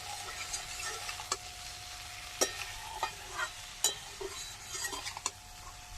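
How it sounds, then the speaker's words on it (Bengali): Fried okra tossed with spices in a pan, soft sizzling under light, irregular scrapes and taps of a spoon against the metal, fairly quiet and close with no talking. "ভেজে রাখা ঢ্যাঁড়সগুলো দিয়ে মশলার সাথে নাড়াচাড়া করে আরও কিছুক্ষণ কষিয়ে নিলাম।"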